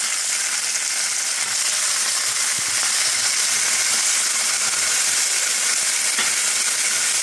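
Sprouted lentils sizzle in a frying pan, a steady bright hiss that runs unbroken and close for the whole stretch.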